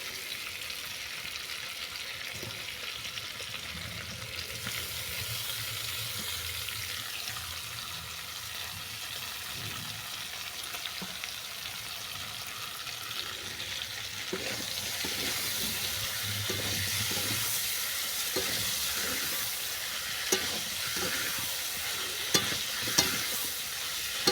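Soft, continuous sizzling of bathua greens stems frying with spices in a pan, with scraping and stirring strokes that grow busier toward the end; no one talks.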